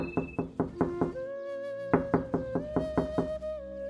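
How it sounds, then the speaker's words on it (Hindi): Cartoon sound effect of knocking on a wooden door: a steady run of evenly spaced knocks, close and clear, over a sustained musical tone with no talking. "तभी कुछ समय बाद दरवाजे पर खटखटाने की आवाज आती है।"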